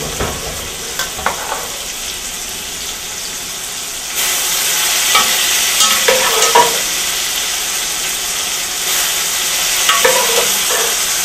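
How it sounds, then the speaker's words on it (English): Cooked pasta tossed with sauce in a hot pan, giving a steady sizzle that grows louder midway, broken by scattered clinks and scraping stirs from the pan and utensil. "Now I'm going to take the pasta and put it in the pan and toss it with our sauce."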